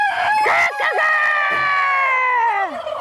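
A farm rooster crows loudly and close up, one long drawn-out crow that rises, holds and trails off over about three seconds, with a brief rustle before it.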